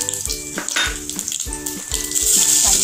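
Peanuts, cumin and mustard seeds crackle and sizzle in hot oil in a pan, with sharp repeated pops and spitting, close and loud, alone without talk.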